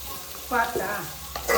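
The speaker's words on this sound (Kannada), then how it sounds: "ಇವಾಗಲೇ ಬೆಳ್ಳುಳ್ಳಿನ ಹಾಕೋಣ. ಈರುಳ್ಳಿ ಜೊತೆ ಚೆನ್ನಾಗಿ ಬೇಯ್ಕೊಳ್ಳಿ." Garlic and onion fry in oil in a pan for mango chitranna, a soft steady sizzle with a few brief stirring scrapes and clinks close by, with no voices over it.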